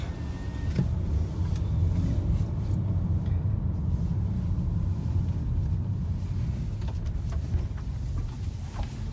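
A Norfolk Southern train entering a rail yard with maintenance equipment gives a steady, distant low rumble that holds throughout, with faint wind buffeting the microphone.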